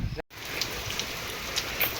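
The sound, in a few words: rain falling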